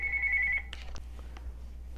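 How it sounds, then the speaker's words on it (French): A telephone rings with a steady electronic tone for about half a second, then cuts off, followed by a few faint clicks and taps in a quiet room, with no voices. "Pardon pour le téléphone"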